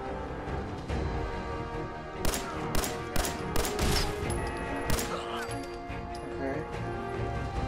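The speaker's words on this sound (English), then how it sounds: "I can shoot out the windows" Gunfire in the Fallout 4 VR game, shots blasting out windows on a rooftop: a run of sharp, loud bursts mid-clip over a dense, continuous game soundscape with music and ambience.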